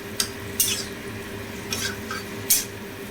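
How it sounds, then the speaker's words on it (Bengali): Fried potatoes being stirred into masala in a pan for Bengali-style bhetki fish kalia, several sharp spoon scrapes against the pan over a low steady background. "দেখতেই পাচ্ছ আলু দিয়ে মশলাটাকে খুব ভালো করে নাড়িয়ে নিচ্ছি"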